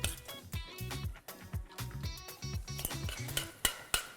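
Chicken keema stirred with masala in a kadhai, with a spoon scraping and clanking rhythmically against the metal pan, close and clear, and repeated stirring strokes over a faint sizzle.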